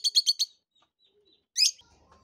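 Rosy-faced and Fischer's lovebirds give a quick run of four sharp, high chirps, then silence, then one more shrill squawk, close and clear with no talking.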